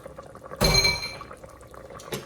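Liquid is poured from a container into an Instant Pot in one short splashing burst that fades quickly, followed by a faint clink near the end.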